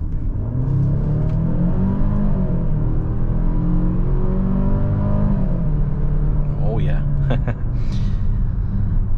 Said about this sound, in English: turbocharged 4-cylinder engine is not bad